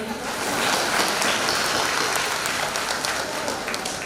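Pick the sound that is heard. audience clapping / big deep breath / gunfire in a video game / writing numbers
audience clapping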